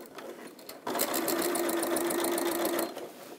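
An Elna 550-series sewing machine stitches through a faux leather bag, running in a fast, even mechanical whir for about two seconds after a quiet start, then stopping, close and clear with no talking.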